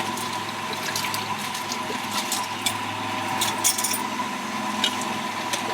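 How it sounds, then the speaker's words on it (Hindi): Water poured into a pot of pigeon pea dal (arhar) cooking with roasted spices, a steady splashing pour with a faucet-like rush running throughout at moderate level, no talk. "तो मैं इसमें डाल दूँगी पानी"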